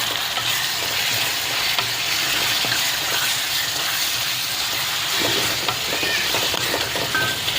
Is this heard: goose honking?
no